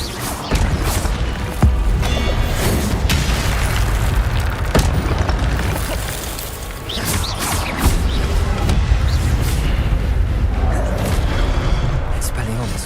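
Expelliarmus spells cast in Hogwarts Legacy land as heavy booming blasts amid a loud, continuous combat din, with a voice talking over the action.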